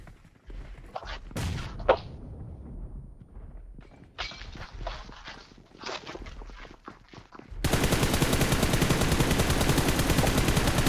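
Gunfire in the mobile game PUBG Mobile: scattered single shots and short bursts with footsteps in between, followed by a dense, sustained stretch of loud, rapid automatic fire.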